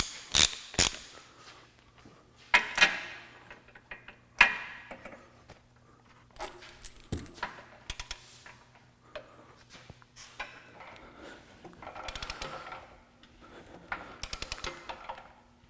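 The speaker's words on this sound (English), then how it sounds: "We'll use the torque wrench and we'll get them torqued to 375 foot-pounds" A torque wrench tightens the grapple mount bolts on a Danuser Hornet post driver to 375 foot-pounds, giving scattered metallic ratcheting clicks, clanks and tool handling at close range.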